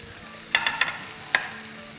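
Tomatoes go into a pan of frying onions for a Rajma Makhani curry, with a few sharp clinks of a utensil over a soft background sizzle, close by and without talking.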